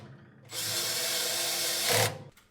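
Power drill briefly whirring as it drives screws back into a Z Grills 700 Series pellet smoker, a steady close buzz lasting about a second and a half.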